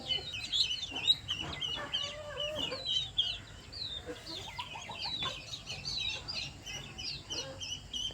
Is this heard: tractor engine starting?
no